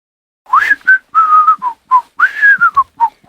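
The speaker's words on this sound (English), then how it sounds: "Must you whistle all the time?" A person whistles a short tune in bright, clear phrases of sliding and held notes, close and loud, with no voices over it.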